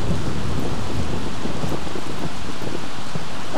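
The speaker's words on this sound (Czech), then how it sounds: "Jak to, že na ní prší to?" Rain and thunder from The Sims 3 game, a dense steady downpour with rumbling thunder underneath, loud and constant throughout with no voices.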